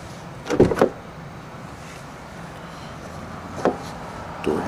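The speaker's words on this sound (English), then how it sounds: "Door hinge opens like that." A 2013 Range Rover Sport Autobiography V8 door unlatching and swinging open, a few brief clunks and mechanical clicks spread apart over a quiet background.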